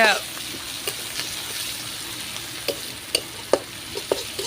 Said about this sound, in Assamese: এইখিনি ভালকৈ ভাজি লোৱাৰ পিছত অকণমান এইখিনি সিজালে বেছি ভাল হয়